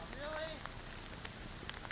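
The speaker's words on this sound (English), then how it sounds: "Well, it's still raining. It's all get out. And here it comes again." Rain falls steadily and hard at a mountain campsite in the Colorado Rockies, a dense, even hiss with scattered louder drops tapping close by. A campfire burns nearby, and the rain carries on alone without any talk.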